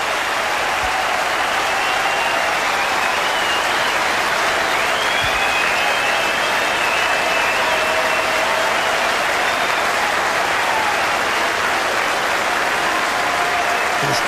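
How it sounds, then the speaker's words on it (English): A cricket crowd at the Gabba applauds Adam Gilchrist reaching fifty on his 1999 Test debut against Pakistan, a loud, dense wash of clapping that holds steady and distant-wide, with a commentator speaking over it. "And this Gabba crowd, very appreciative of good cricket. Very appreciative of Adam Gilchrist batting."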